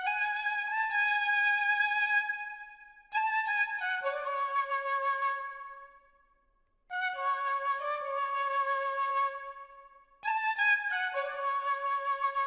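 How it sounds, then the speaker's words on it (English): A breathy flute sample from the Drum Demon 3 multi-kit plays sustained notes in short phrases, pausing briefly between them, with no drums underneath. "next thing I put is this flute"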